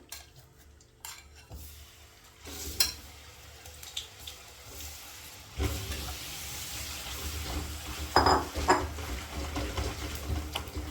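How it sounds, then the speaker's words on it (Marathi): Jaggery melting with ghee in a wok into a syrup for sesame ladoos, giving a soft bubbling sizzle with occasional utensil clinks and scrapes, close and moderately loud, with no talking. "गुळाचा पाक होत आहे"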